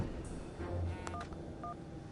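A phone rings in the Madden 20 football video game with a few short, faint electronic tone bursts over a quiet background, and no talking.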